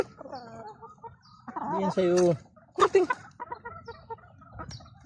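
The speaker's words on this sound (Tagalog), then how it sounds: "Lumalapit yung mga inahin." Farm hens cluck as they approach at feeding time, several short close clucks mixed with someone speaking over them.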